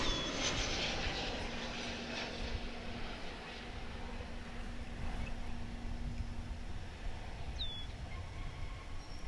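American Airlines Boeing 737-800 arriving from Mexico City, landing on the runway at Dallas Fort Worth airport. A distant, steady jet roar with a faint hum holds evenly throughout, heard from afar with no talking.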